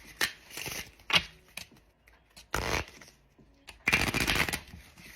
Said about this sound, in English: I'm just shuffling more